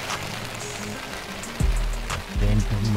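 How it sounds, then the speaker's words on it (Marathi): Heavy rain and strong wind lash a misty mountain campsite at Harishchandragad, a steady pattering hiss broken by low gusty thumps of wind on the microphone, with a voice talking over it. "सो अर्ध्या तासापासून पाऊस पडतो खूप सारा. बाहेर धुके पाऊस आणि वारा खूप सुटला."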